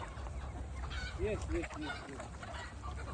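Country chickens cluck a few times amid a steady background murmur, with people talking nearby in a busy poultry shed of about 1000 birds.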